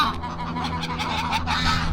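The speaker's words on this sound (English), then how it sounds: "Wow, so many geese." A flock of geese honks loudly on the bay side of Reykjavik, Iceland, overlapping calls in a steady noisy chorus close by, with a low background rumble underneath.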